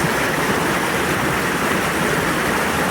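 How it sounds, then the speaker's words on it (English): Steady, dense rush of gushing water, loud and close, holding an even broadband roar for the whole stretch with no pauses or voices. "letting that gushing water continue"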